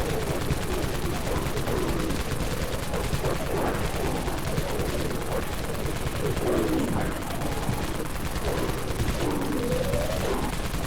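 A Dawn Minigun in Dead Frontier fires across the Wastelands in a dense, unbroken stream of rapid shots that stays loud and constant, with no speech.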